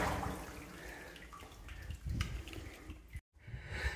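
Clean, cold water is pumped out of the DeSoto mine and splashes and gushes steadily near the mine entrance. The flow breaks off for a moment near the end, then resumes.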